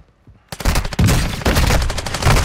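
Rapid, loud shotgun blasts in Call of Duty burst in after a near-silent start, several sharp shots fired in quick succession with heavy booming echoes and no talk.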